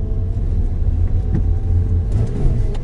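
A manual-transmission car's engine rumbles steadily up close as the driver gives it gas, a low continuous drone that swells slightly without pause.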